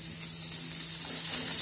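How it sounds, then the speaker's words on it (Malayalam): Onions sauté in a pan for chicken bread rolls, producing a steady, loud, close sizzle with a faint low hum underneath and no voices. "ഉള്ളി പെട്ടെന്ന് വഴഞ്ഞ് കിട്ടാൻ വേണ്ടിയിട്ട് നമ്മൾ ലേശം ഉപ്പ്,"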